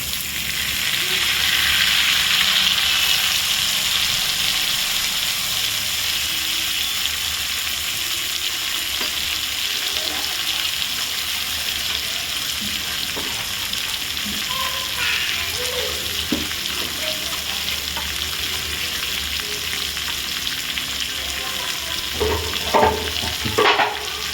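Tomatoes frying in hot oil in a pan with brinjal, a continuous loud sizzle with occasional clinks and scrapes of stirring, and faint running water in the background.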